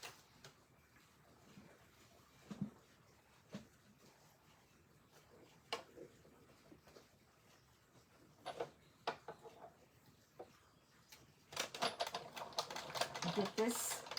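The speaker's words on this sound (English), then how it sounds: "I'm just going to run this through my die cut machine," A cut-and-emboss die cut machine cranks paper through its rollers, building into a dense stretch of rapid clicking and grinding after scattered quieter knocks and taps, all fairly faint and close.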